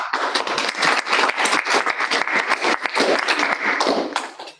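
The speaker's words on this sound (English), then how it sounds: "Give a huge applause to all of them." Audience at an international engineering and management conference applauding its speakers, a dense, steady wave of clapping sustained loudly for the whole stretch before tapering at the very end.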